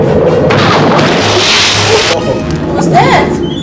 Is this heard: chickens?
no